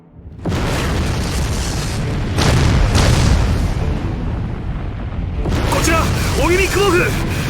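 A naval fleet shelling a bay in Soukou Akki Muramasa: loud, rolling explosions booming one after another under someone speaking Japanese, with warbling tones in the later part.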